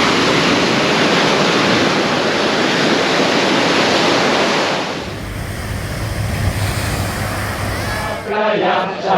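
Waves rolling onto a beach make a steady, loud broadband wash for about five seconds. The surf then softens beneath a low rumble and fades toward the end.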